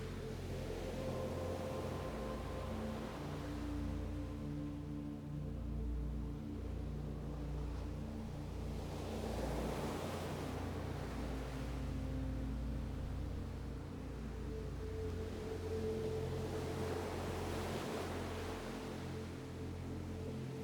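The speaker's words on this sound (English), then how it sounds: "Focus it on the sound of the waves to return to meditation." Ocean waves wash in slow, broad swells at a steady moderate level, each surge rising and fading over several seconds beneath a constant low rumbling drone, with no voices.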